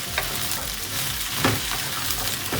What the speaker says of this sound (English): We are going to fry this bhindi for about